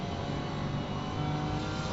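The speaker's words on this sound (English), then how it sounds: "It's the 911 Porsche, Bisher Ammer." Porsche 911 GT race car from Assetto Corsa Competizione at the Bathurst circuit, its engine droning steadily and loudly throughout with a dense, constant roar and no voices.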